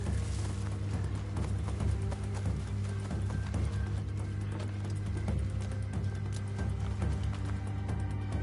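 Horse hooves galloping in the video game Assassin's Creed Shadows, a steady rhythmic clip-clop running continuously and loudly under game music and ambience, with no speech.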